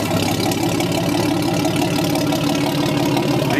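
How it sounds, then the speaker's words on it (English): A 1938 Chris-Craft 19-foot double-cockpit custom runabout with a 145-horsepower engine, idling loud and close with a steady low rumbling throb that holds even throughout. "The engine puts out 145 horsepower."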